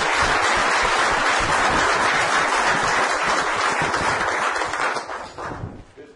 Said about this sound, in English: I'd like to have a round of applause and congratulate all of our new folks and our promoters